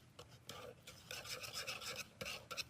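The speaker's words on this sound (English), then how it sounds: "I'm going to whisk that together" A metal whisk stirring brownie mixture in a hard-anodized, non-nonstick pan, with soft scraping, rasping strokes in an uneven rhythm, quiet and close, without talk.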